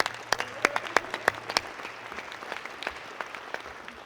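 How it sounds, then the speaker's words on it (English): A crowd applauds at a ceremony for a University of South Carolina indoor football facility: dense, loud clapping with sharp individual claps in the first half, then thinning and fading toward the end. "Give yourself a hand of applause."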